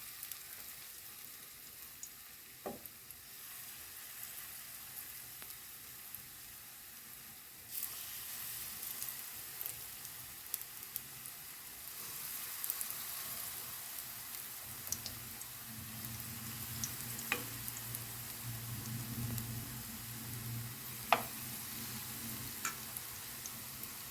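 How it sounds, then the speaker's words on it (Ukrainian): A soft, continuous sizzle of pumpkin pancakes frying in oil in a heated pan, with occasional small ticks and pops scattered throughout. "Сковорідка нагрілася і викладаю такі млинці."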